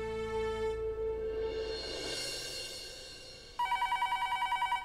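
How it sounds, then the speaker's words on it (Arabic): A telephone rings indoors with a bright electronic trill, a steady pulsed pattern that starts partway through over soft background music, loud and close with no talking. "ايه هالتليفون ما بيرن غير وقت بكون مشغولة"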